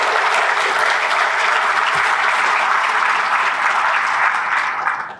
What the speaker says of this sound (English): congratulations and one more round of applause, please